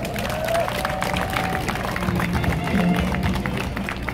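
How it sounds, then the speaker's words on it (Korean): An audience at a launch ceremony for a Gyeongnam women's volunteer group claps steadily, a dense, moderately loud wash of applause that continues evenly throughout with crowd murmur mixed in. "우리 힘내시라고 또 감사하다고 큰 박수 한번 부탁드릴까요?"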